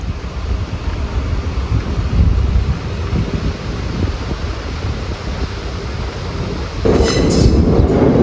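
A train departing Kalamassery station in Kerala rumbles loudly and steadily with clattering wheels, growing louder near the end with a high metallic wheel squeal.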